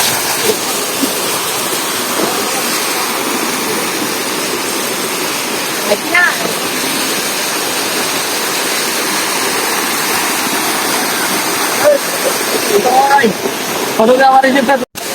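A waterfall at Ghagra in Rangamati pours with a loud, constant rushing roar close by, and voices come through faintly over the water near the end.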